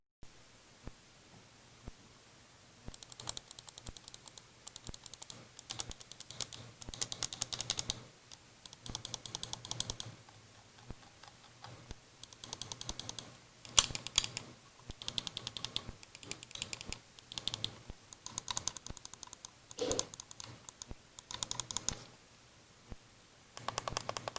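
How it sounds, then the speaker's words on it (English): Button clicks on a Redragon M913 wireless MMO gaming mouse with Omron main switches and membrane side buttons, heard as quick close bursts of crisp clicking in irregular clusters separated by short pauses, with no talking. "We'll pause here real quick and you can listen to the clicks"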